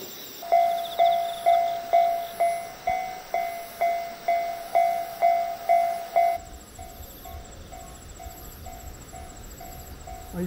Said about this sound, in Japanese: 特急やくもが、来ました。